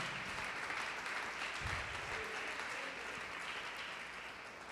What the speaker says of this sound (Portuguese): Pode aplaudir, glorificar a Jesus por isto